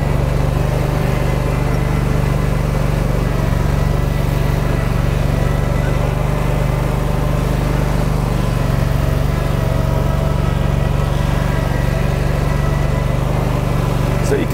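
A Cub Cadet Pro Z900 zero turn mower with dual front wheels drives across a hillside, its engine a loud, steady drone with a constant low hum throughout.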